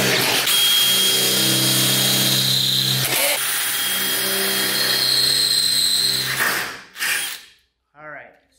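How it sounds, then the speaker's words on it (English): A power drill whirs loudly in two long bursts while mounting fenders on a Ford Mustang, its pitch steady, before stopping; a short clatter and faint voice follow at the end. "Now we drill it."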